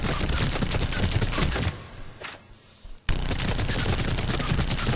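Hurricane submachine gun in the Mass Effect 3 video game firing full auto, loud sustained rattling bursts that stop briefly near the middle before a second long stream of rapid fire resumes.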